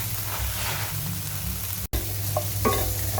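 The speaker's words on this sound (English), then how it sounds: "So just add your rice to the pan." Risotto rice tipped into a pan of sweated onions and garlic, giving a close, steady sizzle with stirring scrapes and a brief break partway through.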